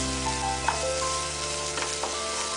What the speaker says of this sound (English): With this I will add onions and cook them until they are translucent.